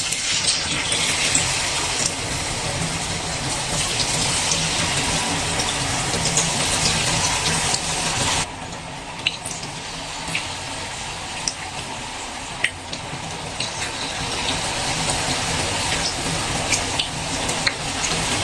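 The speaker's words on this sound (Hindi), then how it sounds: "जैसे ही ऑयल गर्म होगा तो हम इसमें पकौड़े निकालेंगे।" Pakoras for kadhi pakora sizzle in hot oil in a home kitchen, a loud, continuous crackling hiss that drops briefly partway through and then resumes without speech.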